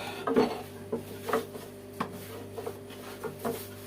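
A small rolling pin rolls out gözleme dough on a wooden surface, giving soft intermittent knocks and rubbing thumps at an uneven rhythm, close and fairly quiet, with no talking.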